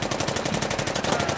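Rapid machine-gun fire from a hot gun in a movie scene, a continuous fast burst of evenly spaced shots, loud and close with no talk over it.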